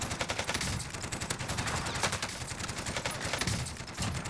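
Dense rapid gunfire rattles through a video game match in an unbroken, close, loud fusillade of sharp overlapping shots lasting several seconds.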